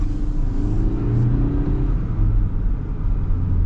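A 2025 Ford Ranger XLT pickup truck with a 270-horsepower engine accelerates with a steady, loud engine drone and low rumble building evenly, with no voices.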